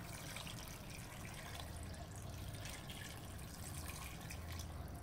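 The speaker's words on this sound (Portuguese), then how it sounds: "agora podemos colocar a água no cozimento das nossas carnes" Water poured into a pot of cooking meat for a Brazilian entrevero de pinhão, a steady splashing, trickling rush that continues evenly throughout with no voices.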